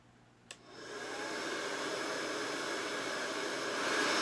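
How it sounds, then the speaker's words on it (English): A sharp click, then a steady loud whoosh of a dryer blowing air, building up and holding constant. "We're going to hit this with a dryer."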